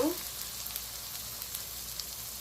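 Ground spices with coriander powder, ginger and garlic fry in hot oil for a bottle gourd and shrimp curry, giving a steady close sizzle with faint stirring scrapes throughout.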